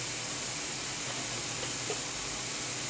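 Butter hisses and sizzles steadily in a hot frying pan while vegetable pasta is being made, a soft, even frying crackle with no talking over it.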